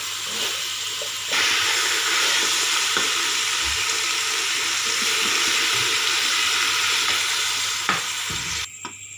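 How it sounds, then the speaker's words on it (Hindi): Mutton sizzles in a pot with masala and desi ghee, a loud continuous frying hiss with occasional stirring scrapes, ending in a brief clatter. "मसाला बहुत अच्छी तरह भून के इसका और देसी घी इसमें डाला है"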